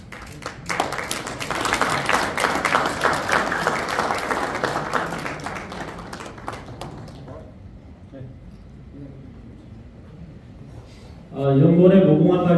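A ceremony audience applauds at an anniversary event, a sustained wash of many hands clapping for several seconds that gradually thins out, followed by a voice speaking over a microphone near the end.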